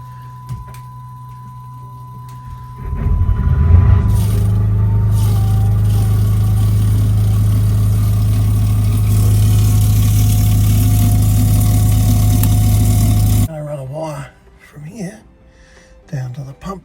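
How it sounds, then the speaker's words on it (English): Boat generator cranking over and starting, then running with a loud steady drone that cuts off sharply near the end, with a low hum before it and bits of talk after. "I'm going to run the generator."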